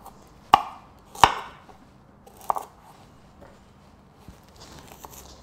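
Knife chopping through pears and parsnips on a board, a few sharp separate cuts spaced about a second apart, then fainter taps, close and otherwise quiet.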